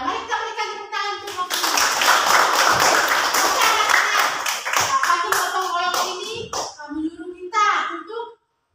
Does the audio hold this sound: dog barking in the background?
no